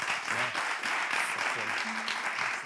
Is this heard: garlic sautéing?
no